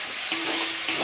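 Spice paste frying in hot oil for a potato and katla fish curry, a steady close sizzle with soft stirring scrapes, brief and unbroken, without voices.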